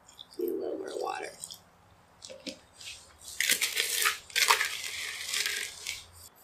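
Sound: mixing a batter-like mixture in a container

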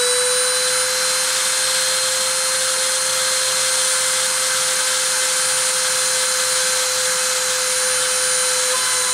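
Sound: motor spinning at 30,000 RPM during deposition

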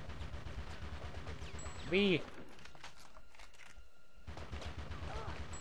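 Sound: gunshot in the video game Conker's Bad Fur Day

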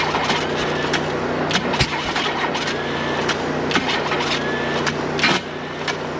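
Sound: inline six engine misfiring and backfiring up the intake

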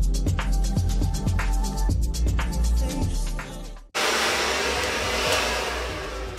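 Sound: blow dryer heating

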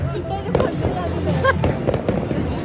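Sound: New Year fireworks in Sweden

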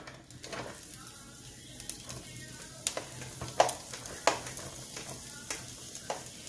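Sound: onion stir-frying in oil for meat pie filling

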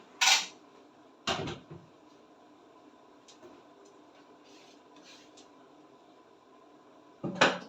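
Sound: closing the lid of a cooking pot

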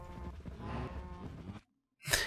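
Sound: cow mooing after being hit, from the video game Minecraft

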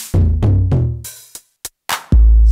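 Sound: distorted 909 drum machine kit

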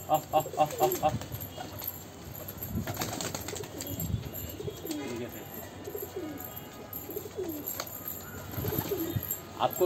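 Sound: pet pigeons cooing while eating

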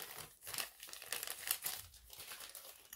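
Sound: folding a crinkly item from a bag

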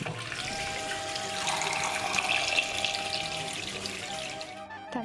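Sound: pouring cold water over boiled eggs

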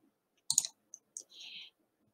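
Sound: computer mouse click

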